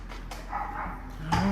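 Dogs at an animal shelter bark and yip in a few short, moderately close bursts, with a low background hum.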